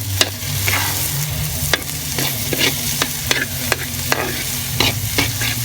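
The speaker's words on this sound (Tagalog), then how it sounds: "haluin muna natin" Sautéed sardines with egg being stirred in a pan, with sharp utensil scrapes and clicks at an irregular pace over a soft, steady sizzle, close up.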